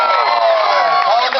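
Crowd cheering and whooping in a brief loud burst at a state fair race, many voices shouting together up close.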